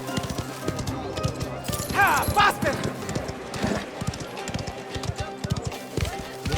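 Horse hooves clip-clop in a steady, brisk rhythm across Mafia: The Old Country, with a short whinny partway through and someone talking over the riding.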